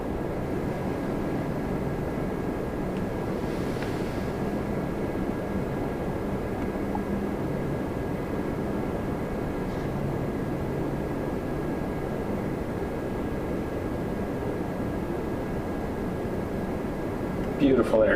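A Lufthansa Boeing 747 at Toronto Pearson airport gives a steady, broad jet roar that holds for the whole stretch, with no voices.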